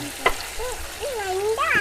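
Chicken frying in boiling oil makes a steady close hiss, with a short crackle early on and faint high wavering tones drifting over the sizzle.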